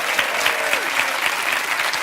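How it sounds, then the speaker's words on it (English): Studio audience on the quiz show Millionaire Hotseat applauds, a steady, full burst of clapping that fills the short stretch, with a faint tonal sound briefly under it. "That deserves a round of applause."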